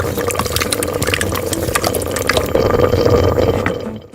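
Water splashes and pours steadily into a miniature kitchen pan with tomato sauce and fish, with a brief shift midway to a fuller, steadier flow before it tapers off.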